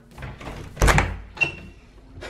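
A freshly painted blue door thuds and clunks as it moves, with a couple of lighter knocks and rattles after it, close by and fairly loud.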